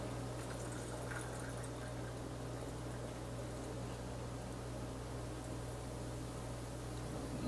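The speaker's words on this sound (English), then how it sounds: "Go ahead and top that off with Sprite." Sprite being poured to top off a cocktail, a steady fizzy liquid rush lasting the whole stretch at even loudness, alone with no talk.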